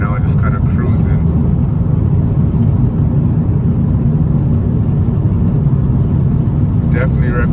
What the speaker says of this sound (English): I'm down in 9th gear right now, just kind of cruising.